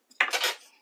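A jug is picked up in a kitchen, giving a short cluster of light clinks and a ceramic knock, close and quiet.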